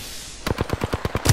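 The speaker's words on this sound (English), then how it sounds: "I'm taking shots." A rapid burst of automatic gunfire in Apex Legends, around eight close, punchy shots in quick regular succession after a brief quiet start, ending in a heavier final thump.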